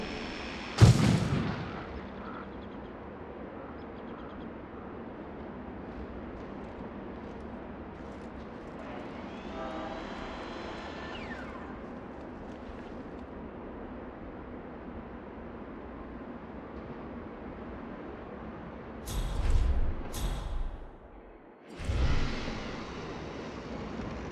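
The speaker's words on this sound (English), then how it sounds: "Fire in the hole." A blasting-charge explosion in the Hitman video game, heard as a sharp boom near the start, then a long low rumbling roar and a few more muffled bangs near the end.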